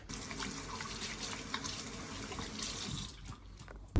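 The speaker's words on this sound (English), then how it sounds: "Step one is always gotta wash our hands." Hands washed under a running kitchen tap before baking a Christmas yule log, a steady close stream of water splashing into the sink with shifting patter as the hands move, with no talk over it.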